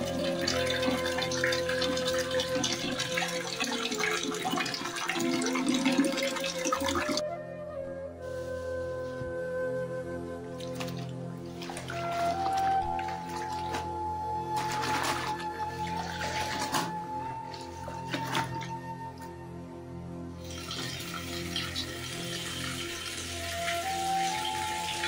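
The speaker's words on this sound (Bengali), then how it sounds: "কাপড় ধোয়া শেষ, ওই যে বালতিতে রেখেছি" Clothes washed by hand with water in a home, with continuous splashing and dripping, a steady wet rustle that briefly thins out midway before returning.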